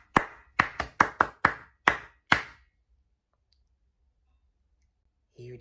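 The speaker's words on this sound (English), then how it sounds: "I'm going to clap it 4 times" Hands clap a short rhythm as a dictation exercise, seven sharp, close claps in an uneven pattern, followed by silence and then a brief voice.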